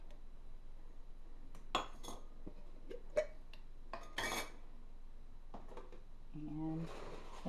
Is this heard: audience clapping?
no